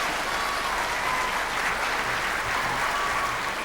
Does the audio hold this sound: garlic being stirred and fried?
no